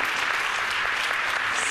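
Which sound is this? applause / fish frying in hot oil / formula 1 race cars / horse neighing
applause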